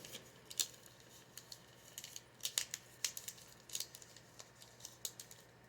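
Paper being folded and creased by hand, giving a series of close, quiet crinkles and sharp crackles in uneven bursts with short pauses between them.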